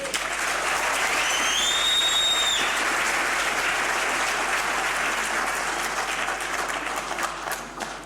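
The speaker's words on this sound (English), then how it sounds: "they deserve a big round of applause" Full, steady audience applause for a prize-winning choir rolls through a hall at a university spring graduation ceremony, dense and continuous before easing slightly at the end.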